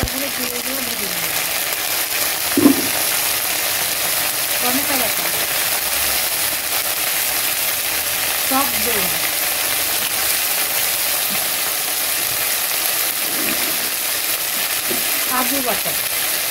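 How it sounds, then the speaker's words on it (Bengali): Washed green chillies fry in hot oil in a pan for cauliflower korma, giving a continuous close sizzling hiss with occasional stirring scrapes while a person talks over it. "এবার দিয়ে দিচ্ছি লঙ্কাগুলো ধুয়ে দিয়ে ভেজে নিয়ে"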